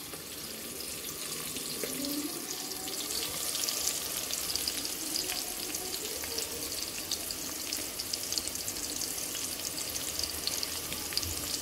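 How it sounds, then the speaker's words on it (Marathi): Sliced onions frying toward golden brown over a high flame for chicken dum biryani, giving a continuous, moderately quiet crackling sizzle with occasional sharper pops and faint stirring, no speech. "कांदा गोल्डन ब्राऊन होण्यासाठी थोडासा वेळ लागतो"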